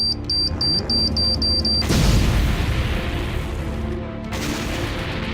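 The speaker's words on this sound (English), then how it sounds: "Hearing the explosion" A car bomb explosion erupts as a sudden loud, broadband boom after a series of steady high electronic beeps, then a long, rumbling tail that fades and briefly flares again.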